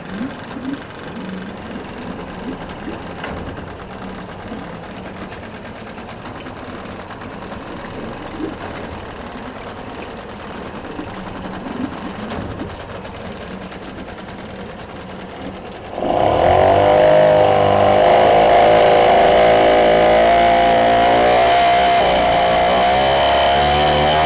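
A Yamaha 5 outboard motor idling, a steady buzzing hum that jumps to a louder, harsher drone partway through and holds there.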